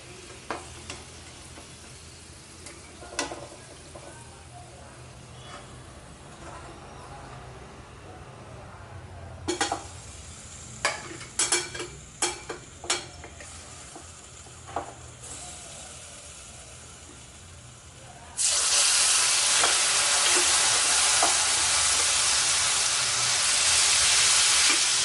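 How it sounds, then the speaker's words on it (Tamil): Bitter gourd slices fry in a pan with a few sharp clatters of stirring and scraping, then a loud, steady sizzling hiss takes over near the end. "இந்த மாதிரி எல்லாத்தையுமே வறுத்து எடுத்துக்குவோம்."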